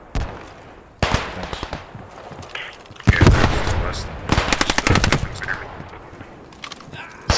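Bursts of machine gun fire in the WWII shooter Post Scriptum, with an MG 34-style weapon, rattle in rapid volleys, loud and close, separated by short pauses while players talk over the shooting.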